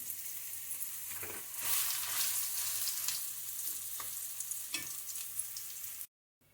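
Bottle gourd pulp frying in a generous amount of ghee, a continuous bright sizzle that swells briefly as it is stirred, with occasional spoon scrapes before cutting off abruptly near the end.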